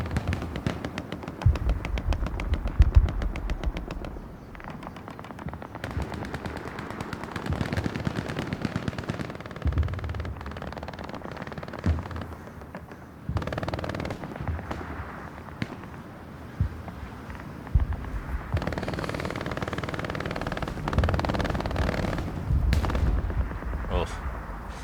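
Machine gun fire in the World War II shooter Hell Let Loose, with repeated rattling bursts and scattered single shots near and far across a long battle ambience, while a commentator talks over parts of it.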